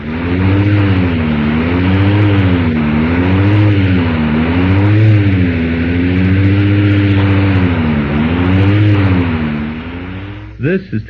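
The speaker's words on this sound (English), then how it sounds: "Here's what your car sounds like with a foreign object in the fan." Volkswagen engine running with a foreign object caught in the cooling fan, a loud close drone with a rhythmic wavering pulse repeating about every second and a half, ending in a few brief clatters.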